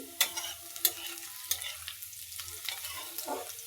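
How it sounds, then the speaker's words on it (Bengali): Onions frying in a pan for a home-cooked Bengali lunch, with a steady soft sizzle broken by several sharp clinks of a spatula stirring against the pan. "এই জন্য পেঁয়াজগুলোকে আগে ভেজে নিচ্ছি"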